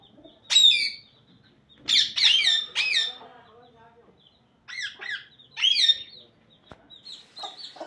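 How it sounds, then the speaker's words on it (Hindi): A hen just let out of her coop clucks and squawks in several bright bursts with short pauses between them, close and clear against a quiet backdrop. "ये मुर्गी खुश हो रही है बाहर निकल के।"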